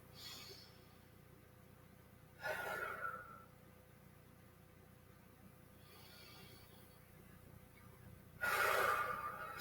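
A person breathes in and out deeply twice, slowly and close by, during a rib expansion demonstration, with quiet pauses between the breaths.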